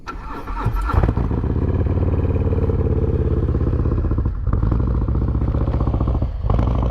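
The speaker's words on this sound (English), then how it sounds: "let's start this bad boy up with a cold start" A motorcycle with a Krome Werks exhaust fires up from cold with a brief cranking clatter, then settles into a loud, close, steady idle that rumbles on with slight dips in level.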